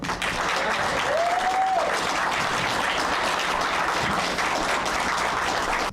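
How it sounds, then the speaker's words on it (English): An audience applauding a spoken word poet at a live event, dense continuous clapping held at an even level throughout. "give a warm round of applause for Kevin Powell"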